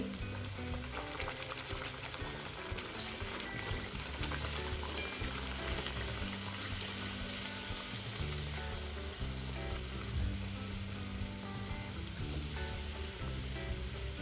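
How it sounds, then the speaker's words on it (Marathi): Masala puris, made with yogurt in the dough, deep-fry in hot oil with a loud, continuous sizzle and crackle that stays steady throughout, no voices heard. "आता यामध्ये वन बाय वन पुऱ्या ऍड करायच्या आहे आणि छान तळून घ्यायच्या आहे"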